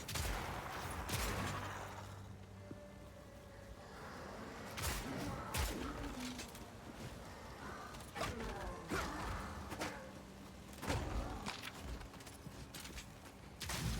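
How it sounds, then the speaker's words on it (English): Rapid-fire shooting from a Monk character in Path of Exile 2, a dense run of sharp percussive hits and impacts in quick, irregular bursts throughout, with a few clanking mechanism sounds among them. "I need me some rapid fire shooting."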